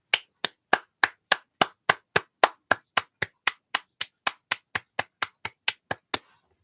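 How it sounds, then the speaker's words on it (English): Roughly two dozen sharp, evenly spaced claps, about four per second, sound close and distinct at a steady pace before stopping abruptly. They are more like a single clapper than a crowd. "round of applause for Olivier"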